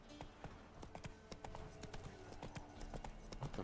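Hooves of the horse Roach in Witcher 3 clip-clopping in a quick, irregular galloping rhythm, faint and steady, with no talk.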